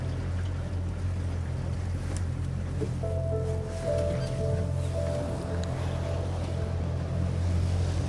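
A motorboat engine drones low and steady across open Arctic water, a constant close hum with a faint higher tone entering partway through and soft wash around it.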